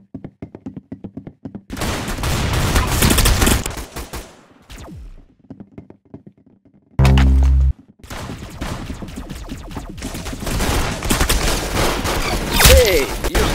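Video game gunfire: rapid bursts and single shots crack loudly in clusters, with a short heavy blast midway, mixed with busy game effects and occasional voices.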